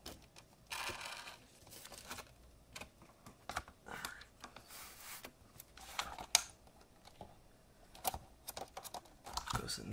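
Close, quiet rustling, clicking and light plastic taps as a cable is tucked into the retention channel of a Razer BlackWidow Ultimate 2014 keyboard, in irregular small bursts.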